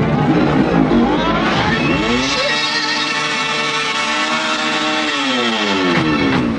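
A loud motorbike engine revs up and down, pitch climbing and falling in sweeping waves, close and continuous.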